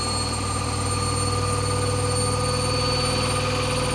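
A Hoover Wizard washer dryer spins a load of wet clothes at high speed, giving a loud, steady motor whine with layered tonal hums and a low rumbling vibration throughout.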